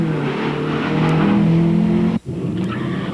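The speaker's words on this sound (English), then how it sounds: "As the drag race is underway," Cars accelerating hard down an eighth-mile drag strip at a One Lap of America event, with a loud sustained engine roar that rises in pitch, a brief drop, then another surge.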